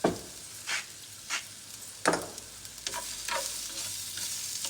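Onion, shallot and garlic sautéing in a pan for a chicken tajine, with a soft sizzle broken by several sharp scrapes and stirs of a utensil at close range, no voices.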